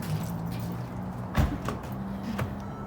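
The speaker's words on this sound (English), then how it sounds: "Shut Ridley's door since she's being disobedient" The door of a Mercedes-Benz GLE car is shut with a single short thump partway through, set against a low steady idle hum, with no talking.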